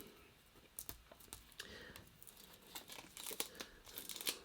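Faint close-up crinkling and tearing of plastic wrap as a board game card pack is opened, a run of irregular soft crackles and snaps.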